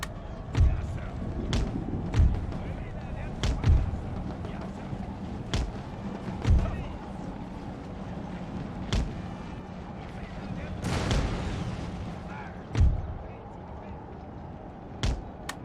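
Cannon and artillery fire on a battlefield in the video game Empire: Total War, with booming shots spaced irregularly every second or two over a steady battle ambience, some near and loud, others more distant.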